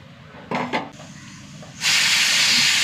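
A pressure cooker cooking dal lets out a loud, sustained hissing whistle of steam near the end, preceded by a couple of brief clattering, rubbing sounds in a quiet kitchen.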